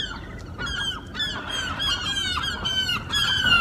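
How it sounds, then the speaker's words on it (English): Seagulls circle a sardine cannery in Monterey, California, loud repeated squawks and raucous calls overlapping in quick bursts, fairly near and continuous with no speech. "look, the boat and the seagulls circling around the cannery"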